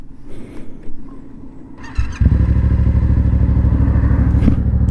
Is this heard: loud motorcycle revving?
yes